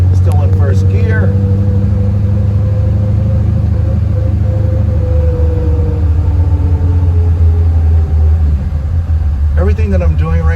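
A 1966 Chevrolet Nova restomod's engine pulls steadily in first gear, a loud, continuous low rumble that rises gradually in pitch as it accelerates, with a brief higher sound near the start and end.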